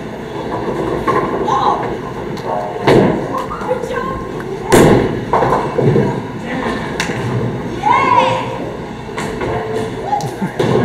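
A bowling ball rolls down a lane toward the pins on a trick shot, a rumbling roll punctuated by heavy thuds and a sharp crash, with voices around it.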